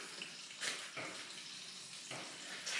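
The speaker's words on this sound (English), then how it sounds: "now oil is draining down" Motor oil draining from the engine of a BMW 1 Series, 2013 to 2020 model years: a faint, steady trickling pour with occasional soft splashes, continuous and close, without speech.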